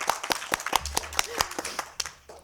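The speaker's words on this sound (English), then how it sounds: "so let's give you an applause" Scattered clapping from a small audience at a cannabis community forum, a handful of sharp, uneven claps close to the microphone that taper off within a couple of seconds.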